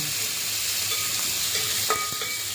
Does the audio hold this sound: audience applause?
no